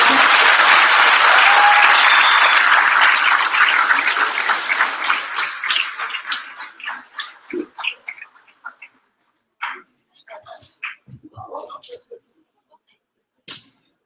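Graduation audience applause, a loud sustained wash of many hands clapping that thins into scattered individual claps and fades out, with a few isolated late claps afterward.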